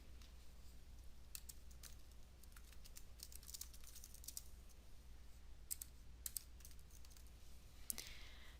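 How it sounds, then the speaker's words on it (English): Quiet, irregular clicks of a computer keyboard as search terms are typed, light scattered keystrokes with short pauses over a steady low hum. "I'll type in the search terms renewable energy and wind."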